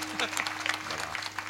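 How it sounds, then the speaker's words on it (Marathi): Audience clapping at a Marathi devotional kirtan gathering, a brief burst of scattered hand claps mixed with voices and a steady low hum. "तुम्ही छत्रपती शिवाजी राजाचं नाव घेतल्यावर टाळ्या वाजवल्या"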